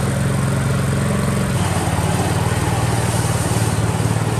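A 2014 Toro 23740 power broom runs steadily after starting on the first pull, its small engine giving a loud, close, continuous drone with a slight shift in pitch partway through.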